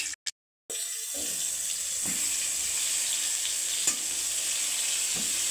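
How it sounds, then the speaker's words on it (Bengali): Eggplant fries in oil in a wok, giving a continuous close hiss of sizzling after a couple of brief knocks at the start, with occasional soft stirring taps; no talking. "তেল দিয়েছি, এখন এই যে বেগুনটাকে আমি ভেজে নেব"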